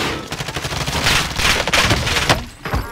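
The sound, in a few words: gunfire in video game Call of Duty Warzone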